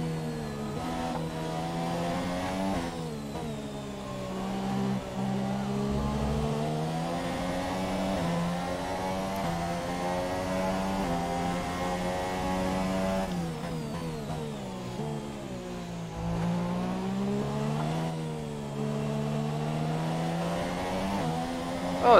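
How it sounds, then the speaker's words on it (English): A Formula 1 car engine from the F1 2017 video game revs high and loud, its pitch climbing and falling as it shifts gears, with no voices over it. "Run on full revs, rich revs,"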